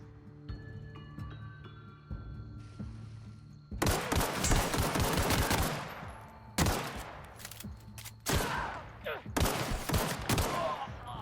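Gunfire in the video game The Outer Worlds, several loud sharp shots and bursts cracking close up over a low game ambience, with quieter hum between volleys.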